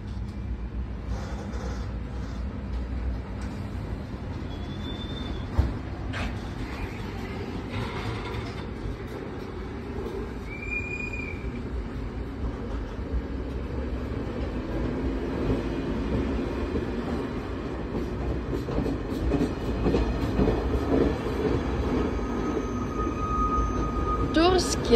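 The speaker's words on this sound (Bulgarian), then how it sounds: "Това е нощният влак от Варна за София." A night passenger train from Varna to Sofia rumbles and rolls at Kostenets station in Bulgaria, with a low steady drone, brief metallic wheel squeals, and a rising rumble as it pulls away.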